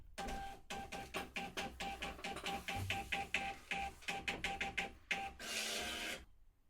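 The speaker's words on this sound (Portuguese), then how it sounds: "será impresso na impressora fiscal o relatório de fechamento de caixa" A fiscal printer at a cash register prints a closing report, sounding as a rapid series of rhythmic mechanical line-feed bursts with short pauses, close and steady, ending in a longer paper-feed whir.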